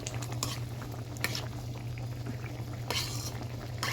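Potatoes cooking in a thin, runny curry bubble and simmer in a pot, a close, steady low bubbling with a few brief splashy clinks, no voices.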